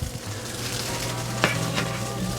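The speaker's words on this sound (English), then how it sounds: "let's just throw some of this in the pan and pre-cook it" Slices of Spam sizzle steadily in a hot pan, a close, continuous crackle of frying with a couple of brief louder spits.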